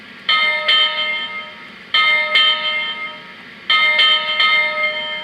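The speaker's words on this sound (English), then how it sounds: "Or you can just do a single bell hit like this." The bell of a Lionel 2-8-2 Heavy Mikado model steam locomotive rings in bright, clear strikes, three groups of two or three hits each, every one ringing out and fading before the next.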